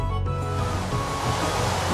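Heavy rain in Minecraft, a dense, continuous broadband wash of rushing water noise, steady and fairly loud with no voices over it.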